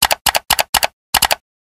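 Clicks of keys on a computer keyboard typing a command, sharp paired taps in quick even bursts, five groups in a row with a short gap before the last, then silence; close and clear with no talking.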